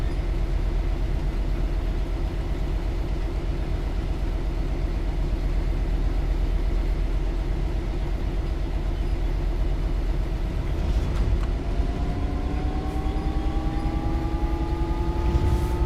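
A train accelerating in the video game Train Sim World 4 on the Brighton Main Line, a steady low engine rumble with rising motor tones appearing near the end, no voices.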